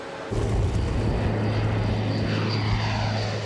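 A Hercules transport aircraft carrying Special Forces paratroopers drones overhead, a steady loud propeller-engine rumble with a low hum that begins abruptly and holds constant with no talking.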